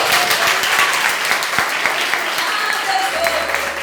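A church congregation applauds during worship, a loud, sustained round of many hands clapping close by, with faint voices beneath it.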